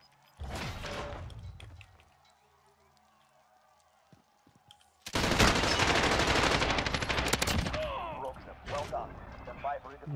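Light machine gun fire in Call of Duty Warzone: a short loud burst, a quieter pause with faint sounds, then a long sustained roaring burst of rapid automatic shots, loud and close.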